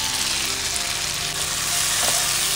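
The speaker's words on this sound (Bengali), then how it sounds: "এই আলুটাকে দিয়ে আরও একটু আমি এটাকে কষিয়ে নেব" Fried potatoes sautéing with tomato ketchup in a pan for Bengali village-style aloo dum give off a steady, close sizzle with a dense hiss that does not let up.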